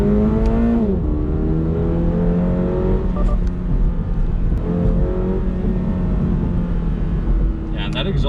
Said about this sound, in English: that exhaust note just sounds so nice